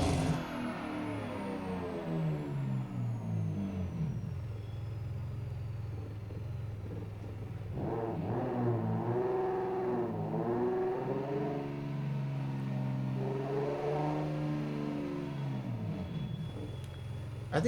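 A Nissan R35 in a racing video game revs its engine repeatedly, the pitch climbing and falling in several surges over a steady low rumble, loud and close with no talk.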